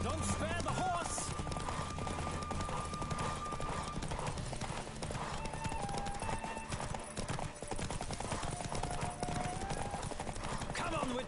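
Rhythmic clip-clop of a horse at full gallop in a Witcher 3 race continues throughout, loud and near, mixed with background music and a voice.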